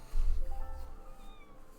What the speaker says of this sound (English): It just meowed at me.